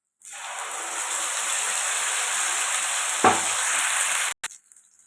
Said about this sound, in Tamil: சட்னியை ஊற்றிக்கலாம்.